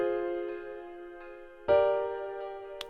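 Sustained keyboard chords in a natural minor progression for a 2000s R&B beat, one soft held chord followed by a brighter change near the end, fairly quiet.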